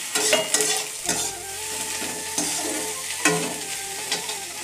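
Potatoes and peas fry in an oiled pan for samosa filling while a spoon stirs them, sharp scraping strokes landing about once a second over a continuous close sizzle, with no talking.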